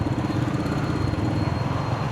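Motorcycle riding through flood water in Apalit, Pampanga: a loud, close, steady engine drone with a rough rhythmic pulse and a broad wash of churning noise throughout.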